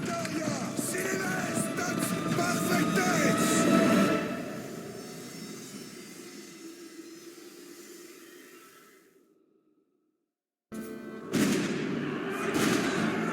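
Cannon fire in a documentary battle scene of the 15th-century French campaign against the English in Normandy, 1448: dense, loud booming and rumbling barrage for about four seconds, fading to silence, then renewed blasts near the end.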